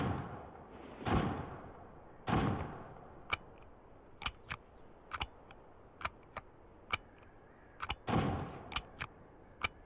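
Magazine swap reload in the Arena Breakout Mobile video game, heard as two broad metallic scrapes followed by a string of sharp clicks and clacks, then another scrape, all fairly close and without talk.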